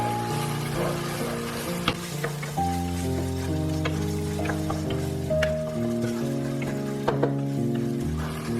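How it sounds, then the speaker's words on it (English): Eggplant and mince frying with black bean paste and oyster sauce, stirred in a hot pan: a steady loud sizzle with scraping stir strokes throughout, no talking. "I'm going to give that a mix through."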